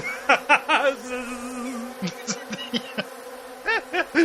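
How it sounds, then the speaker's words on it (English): A hornet buzzing in a video game, several short buzzy bursts with rising and falling pitch, close and loud, some clipped and some drawn out, with no talk. "Yeah, it's a hornet."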